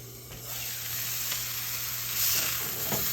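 Beef sears in a hot pan with a steady, moderate sizzle that rises a little partway through, accompanied by a low constant hum.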